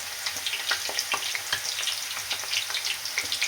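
Onion broken into pieces fries in oil over a high flame, giving a steady, close hiss of sizzling with small crackles and pops scattered throughout, no voices.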